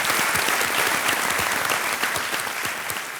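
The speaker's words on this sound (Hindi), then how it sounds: "एक बार तालियों के साथ हम इनका अभिनंदन करते हैं।" A studio audience at a televised quiz show breaks into loud, dense applause, many hands clapping steadily close by before it eases slightly at the end, with no talking over it.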